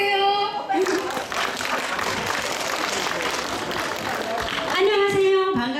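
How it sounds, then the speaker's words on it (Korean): Applause fills the crowd at an outdoor open-air concert at Soyosan, a dense burst of clapping lasting several seconds between stretches of amplified talk. "큰 박수 주세요."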